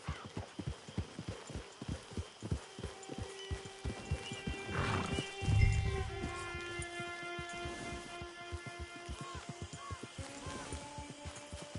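Hooves clip-clop in a steady rhythm as a horse moves in a video game, then a loud whinny rises in the middle, with game music tones and faint ambience running underneath.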